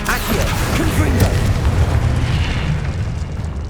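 Confringo blasting spell explosions in Hogwarts Legacy, a loud booming roar that rumbles continuously with crackling bursts, sustained throughout without any voice.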